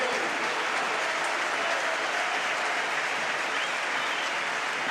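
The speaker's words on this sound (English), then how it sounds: "applause for De Jong and healthy applause for Arturo Vidal" Steady stadium applause from a football crowd at Barça versus Mallorca during a player substitution, a dense continuous wash of clapping heard from a distance.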